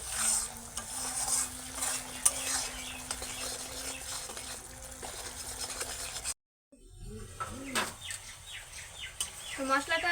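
Spices being stirred in a cooking pan for a jackfruit dish, with a continuous close sizzle and spatula scraping, a brief silence partway through, then more clattering stirs with faint bird chirps in the background.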